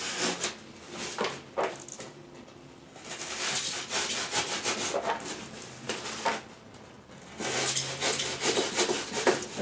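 A wooden bottom plate is notched by hand saw to fit around concrete anchors, with repeated rasping saw strokes in uneven bursts, close and clear, separated by brief pauses.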